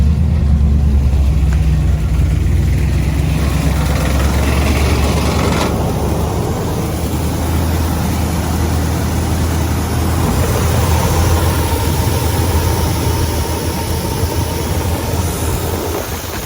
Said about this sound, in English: You can hear it's high idling right now till it gets up to temperature